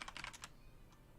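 A quick burst of clicks from a computer keyboard, about six rapid keystrokes up close, then near silence with one faint final tap.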